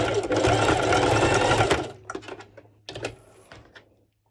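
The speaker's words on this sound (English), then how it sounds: "I'm going to give 2-3 zigzag stitches to secure my underwire part as well" A sewing machine runs a loud, rapid burst of zigzag stitching on a bikini top's underwire section, then stops, followed by a few short clicks and handling noises.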